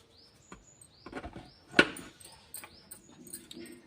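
A plastic attachment clicks and snaps into place on a Prestige mixer grinder, with a sharp click standing out amid light rattling and handling noise, close and fairly quiet.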